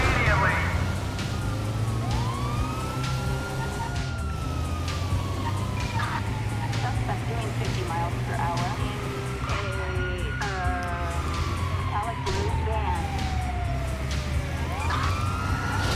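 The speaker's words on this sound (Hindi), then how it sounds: "ओ भाई एक और पुलिस की गाड़ी।" Police car sirens in the video game GTA 5 wail in repeated rising and falling sweeps, loud and continuous over engine noise, while a person talks over the chase.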